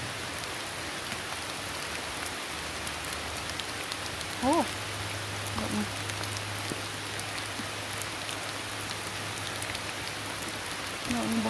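Steady rain falls on the ground outdoors during mushroom digging, a continuous broad hiss lasting throughout, with a low hum in the background and a few brief voices over it.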